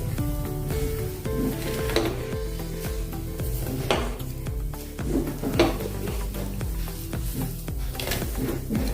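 Kachori stuffing roasts and is stirred in a pan, with a soft steady sizzle under repeated scraping strokes and occasional clinks of a spoon against the metal, close and moderately loud, with no voices.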